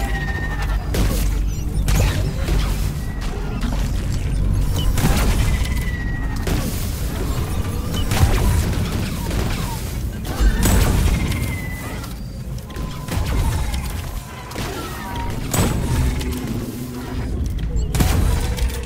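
Nuke bomb detonating in Deep Rock Galactic, a string of heavy booms and crashing blasts repeating through a chaotic firefight, with occasional voice lines from the game.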